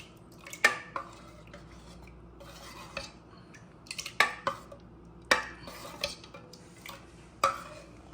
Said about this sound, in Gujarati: થોડી હલાવી દઈએ, મસાલા વાળી થઈ જાય.